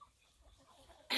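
Chickens on a small poultry farm of about 110 birds cluck faintly in the background, closing with a short, louder burst of sound.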